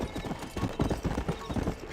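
A horse gallops in Red Dead Redemption, rapid rhythmic hoofbeats close and loud for the whole stretch, a quick run of clip-clops with no pause.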